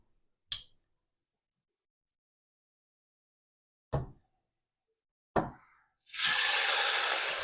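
Food laid butter side down into a hot pan while cooking creamy ranch chicken, giving a few soft plops and knocks before a loud, steady sizzle takes over near the end.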